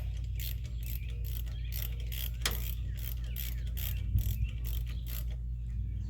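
A ratchet wrench clicks rapidly and steadily while loosening rear brake bolts on a 2003 Dodge Ram 2500, the close mechanical ticking running throughout over a low background hum.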